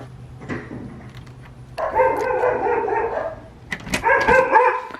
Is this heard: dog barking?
yes